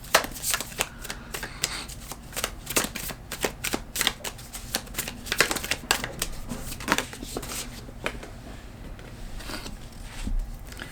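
Tarot cards are shuffled and drawn by hand, a close run of rapid riffling flicks and soft slaps in uneven bursts, with no speech.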